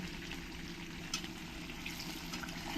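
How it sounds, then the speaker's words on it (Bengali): Hot water pours steadily into a pot of chicken curry, a continuous close trickle and splash over a low bubbling hum, quiet and with no talking. "এবার আমি এইখানে যে জলটা গরম করে রেখেছিলাম এই জলটা আমি দিয়ে দেব"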